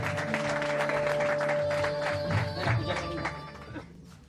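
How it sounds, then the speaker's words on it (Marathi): Audience applause at an evening tribute event with taal-mridang music, a dense wash of clapping over a steady sustained tone and background voices that tapers off near the end. "जोरदार टाळ्या."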